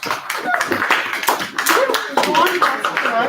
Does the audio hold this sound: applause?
yes